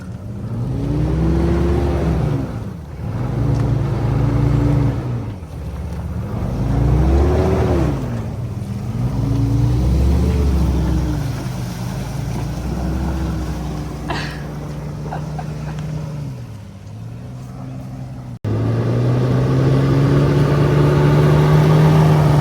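A vehicle engine revs hard while mud riding, its pitch climbing and falling in repeated surges through the wet ground, loud and close, with a steady high drone after a brief cut near the end.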